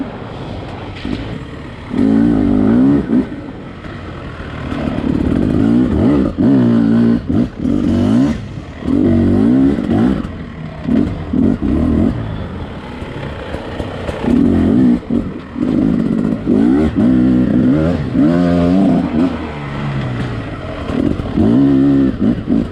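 A 2020 Beta 300RR two-stroke dirt bike engine is heard while riding, with a loud, continuous rasping drone that surges and rises in pitch through repeated throttle blips and gear changes. No talk is heard.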